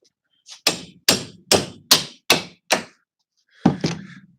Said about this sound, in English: Using my hacksaw as a hammer because I don't think I have a hammer in here